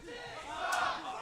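A wrestling show crowd jeers a wrestler, a broad roar of many voices that swells briefly into a loud surge.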